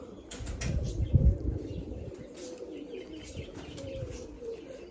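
Pigeons coo softly nearby in low, rolling murmurs, with faint chirps and a brief flutter of wings over a steady outdoor background.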